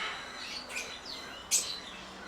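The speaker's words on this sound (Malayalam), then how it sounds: "ലവ് ബേഡ്സ് ആണിത്." Lovebirds at an exotic bird park in Wayanad chirp in a few short, high tweets, faint and somewhat distant against a quiet outdoor background.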